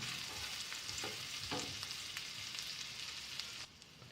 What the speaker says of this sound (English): First let's add ginger, garlic and green chilies, and saute it for a while.